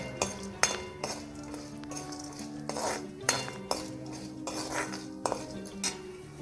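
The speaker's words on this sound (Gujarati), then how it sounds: "આમ તળી લેવા જેવું થઈ જાય એટલે આપણે તેલમાં હલાવી લઈએ" A spoon stirs jowar dhani and puffed rice through hot oil in a metal pan, giving repeated close clinks and scrapes against the pan in an irregular rhythm, with no talk.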